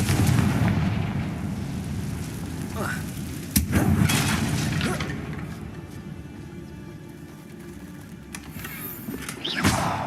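A Confringo blasting spell explodes in the game Hogwarts Legacy with a sharp boom and a rumbling tail, set against continuous game ambience and a second softer burst near the end.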